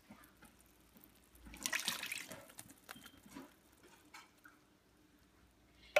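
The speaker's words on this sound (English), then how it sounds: "now next I'm going to add in the coconut milk." Coconut milk pours into dissolved palm sugar in a pot with a soft liquid splash and gurgle that swells briefly. A few faint drips and clinks follow at low level, with no talking.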